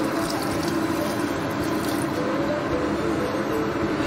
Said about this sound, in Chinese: 这个时候我们就把熬好的笋高汤给它倒进来